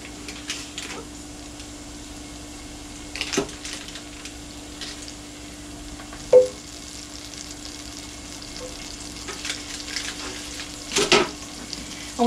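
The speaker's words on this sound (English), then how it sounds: "we are going to stir it constantly until the butter melts" Margarine melts in a pan while being stirred for chicken alfredo, giving a low steady sizzle with occasional soft scrapes and clinks of the spoon against the pan, close and without talk.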